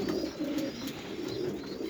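Young pigeons coo continuously up close, a low warbling murmur that swells and fades in soft waves without a break.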